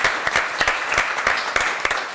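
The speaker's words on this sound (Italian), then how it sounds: "Vorremmo chiudere con un applauso a voi e alla televisione per l'assistenza che ci avete dato" A studio audience applauds at the end of an Italian television volleyball show, a close, lively clatter of many hands clapping with a few sharper individual claps standing out.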